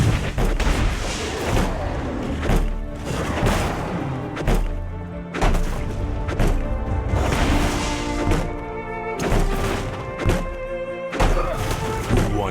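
Heavy thuds and booming impacts from a turret under attack in the mobile game League of Legends: Wild Rift, repeated hits in an irregular rhythm over dense battle noise, with a game announcer voice briefly heard.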